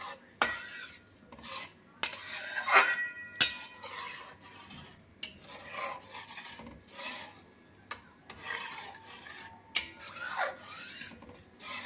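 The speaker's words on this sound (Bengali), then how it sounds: "এটা অনবরত নাড়তে হবে।" A utensil scraping and stirring egg halwa in a pan, with repeated rasping strokes and metallic clinks at an uneven rhythm, close and fairly clear, broken by short pauses.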